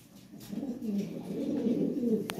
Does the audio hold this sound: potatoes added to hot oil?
no